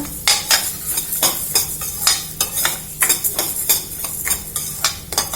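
Urad dal and coriander seeds are lightly roasted in a pan for vangi bath spice powder, with repeated close scraping and stirring strokes of a spoon against the metal and a faint sizzle underneath.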